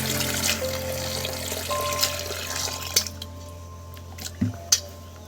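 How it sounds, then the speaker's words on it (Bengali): Chopped potatoes are washed by hand in water, with wet squelching, sloshing and scattered drips and splashes close by, a few sharper plops near the end, and no talking. "কেটে রাখা আলুগুলো আমি ধুয়ে তুলে নিচ্ছি।"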